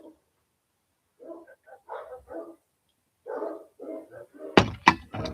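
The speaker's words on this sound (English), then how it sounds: "Those dogs you hear are mine." Dogs bark in scattered bursts, some muffled and distant, then two sharp, loud barks close by near the end, with quiet gaps between.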